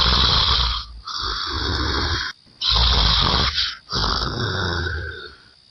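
A mother-in-law snores loudly while sleeping with her mouth open, three long rasping snores in a steady rhythm, close and with no talk.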